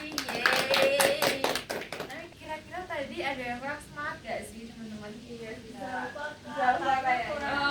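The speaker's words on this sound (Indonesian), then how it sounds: "Buka tutup, tepuk tangan lagi" A group claps hands during a song game in a group counseling session, with a quick run of close, sharp claps in the first two seconds, then singing voices carry on.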